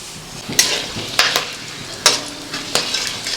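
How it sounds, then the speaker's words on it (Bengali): Bay leaf, clove, cardamom and cinnamon crackle in hot oil, with a few sharp spitting bursts and spatters over a soft sizzle, close and fairly loud. "এবার ফোড়নগুলো দিয়ে দিচ্ছি তেজপাতা লবঙ্গ এলাচ দারচিনি"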